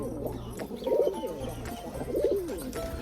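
A pigeon coos up close beside a nest where a female sits on the eggs, giving two rolling, throaty coo phrases about a second apart over soft background noise, with no talking.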